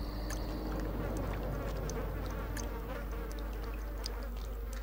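Swarming flies in Vampire The Masquerade - Bloodlines, a continuous close buzz with faint droning layers and occasional sharper flicks, steady throughout with no talk.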